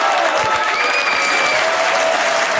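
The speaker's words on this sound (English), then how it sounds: "We let the applause out." Loud, dense crowd applause fills the whole stretch, with a faint whistle-like tone drifting over the clapping.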